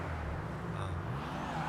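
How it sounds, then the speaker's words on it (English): Dinka Jester Classic sports car in GTA Online, its engine and exhaust giving a steady, strained low drone that sounds slightly labored, continuous and fairly close with no talking. "from what I hear with the engine, I feel like it is struggling a bit"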